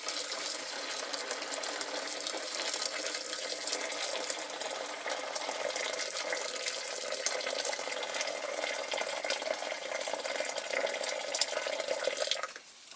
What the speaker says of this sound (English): put the boiling water in